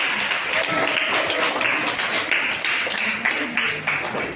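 A class applauds a group that has just finished presenting, with steady clapping from many hands held at a fairly even level for the whole stretch.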